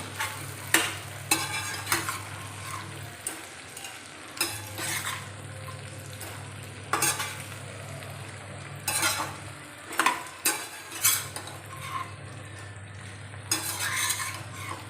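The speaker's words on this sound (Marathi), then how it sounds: "आता याच्यामध्ये मी हे भेंडी घालून घेणार आहे भेंडी देखील मी छान परतून घेतो" Okra and cooked potato sautéing in a pan for a tiffin sabzi, a low steady sizzle broken by repeated spatula scrapes and clinks against the pan, close and moderately loud.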